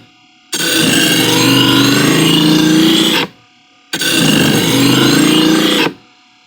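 A straight-edge knife is drawn twice through the first slot of a multi-section knife sharpener. Each stroke is a loud, close, continuous metallic rasp lasting about three seconds, and the two strokes are split by a short silence.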